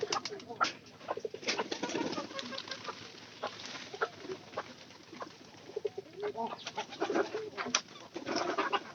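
Pigeons coo repeatedly in a rainy yard with chickens nearby, soft throaty calls overlapping with occasional wing flaps and clucks, moderately close, with faint background voices.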